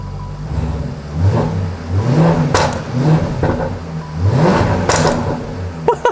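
Jaguar F-Type SVR with a replaced engine, revving hard while driving, the loud engine note rising and falling in repeated surges close to the microphone, with no talk over it.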